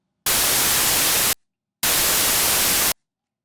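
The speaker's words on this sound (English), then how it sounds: "and here's pink noise." Two bursts of steady broadband pink noise test signal from DaVinci Resolve's Fairlight signal generator, each about a second long, separated by a short silence; loud and even, with a softer, deeper tilt than bright static.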